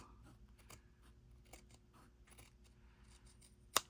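Scissors trim fabric while sewing a zipper placket into a pattern, giving a few quiet snips with one sharp, close cut near the end against a low room hum.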